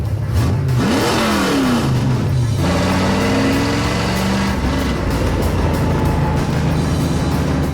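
A cart powered by a clutchless Jericho 4-speed engine revs hard and loud, the pitch climbing and dropping through gears in a continuous, close, throaty roar with no talking.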